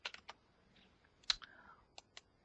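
Typing on a computer keyboard, a handful of sharp separate key clicks with uneven gaps, close and fairly quiet against a silent background, no talking.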